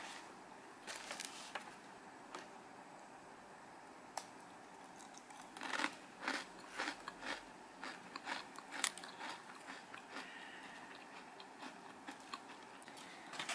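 Sharp crunching bites and chewing of a crisp almond-slice sablé-style cookie, close and fairly quiet, scattered in bursts with soft rustling between.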